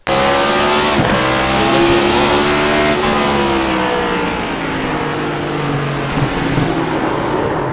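Onboard cockpit engine sound of a race car in a racing video game, a loud sustained roar with shifting revs and brief gear changes throughout, alone without talk.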